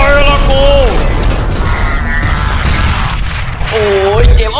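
A loud booming explosion rumbles in Team Fortress, sustained and heavy across the whole moment, with a voice talking over it.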